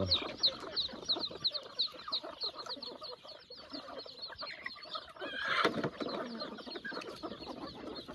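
Chickens cluck continuously while being fed alongside ducks, a close, busy chatter of short clucks with a brief louder squawk partway through.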